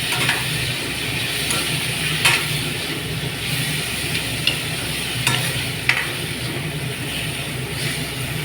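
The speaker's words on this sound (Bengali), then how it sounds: "পেঁয়াজ পাতা দিয়ে আবার সবজিটাকে একটু নাড়াচাড়া করে নিচ্ছি" Cauliflower with potato and turnip being stirred with spring onion greens in a frying pan, a continuous sizzle with scraping spatula strokes and occasional sharper clinks, close and steady with no talk.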